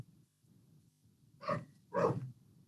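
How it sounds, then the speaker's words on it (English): A dog at home barks twice in quick succession, fairly close and loud, after a stretch of low background hum with no talking. "sorry, my dog is chiming in as well"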